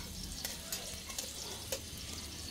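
Garlic frying to golden brown in a pan for chicken adobo with string beans, a soft continuous sizzle with a few light stirring clicks, quiet and close with no talking.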